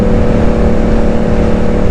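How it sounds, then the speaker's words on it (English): A motorcycle on Metzeler Racetec K3RR tyres rides through a small tunnel, heard as a loud, steady, enclosed engine drone with heavy rumble and constant wind roar throughout. "My favourite little tunnel. I feel like a 16-year-old going through there on my bike."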